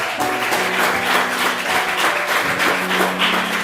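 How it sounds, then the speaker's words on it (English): Students clap at a school debate in a secondary school hall, a loose, scattered patter of applause running throughout with voices mixed in over it. "Please clap for David."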